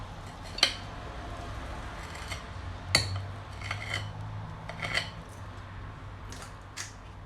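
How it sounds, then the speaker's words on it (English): Keto chocolate cookie dough being scooped with an ice cream scoop onto a baking tray, a few faint metallic clinks and taps spaced several seconds apart over a quiet kitchen background. "get like a scoop, like an ice cream scoop, and then just scoop it out onto your tray"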